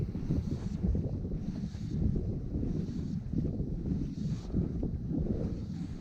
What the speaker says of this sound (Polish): trochę wiatr wieje